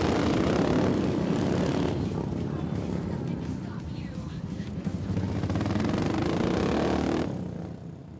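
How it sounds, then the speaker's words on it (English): Several Royal Enfield 350 motorcycles run one after another on a dirt track at a racing event, a steady loud engine drone with rising and falling revs that fades out near the end. "Here they go one by one, getting a grip of the track with their Royal Enfield 350s."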